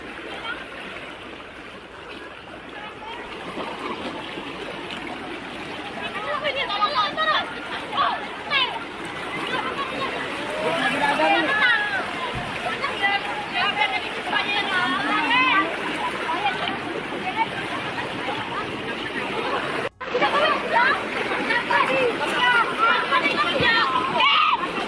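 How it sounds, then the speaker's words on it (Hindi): Floodwater fills city streets in Indonesia while children play in it, splashing and wading amid a watery rush, with children's voices and other talk throughout. "शहर में घुसा बाढ़ का पानी"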